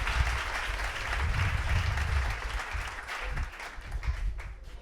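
A church congregation applauds throughout, a dense, steady wash of clapping from many hands in a reverberant hall, with no one talking over it.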